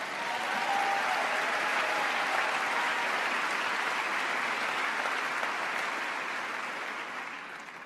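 Sustained audience applause at the opening plenary of the CUFI 2019 Summit, a large convention crowd clapping steadily for several seconds at moderate level before tapering off slightly at the end.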